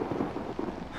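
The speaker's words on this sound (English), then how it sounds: "The thunder kind of got me a little bit." Rumbling thunder in a horror video game, a continuous low roll with a mid-range swell that stays loud and close through the whole second, no speech over it.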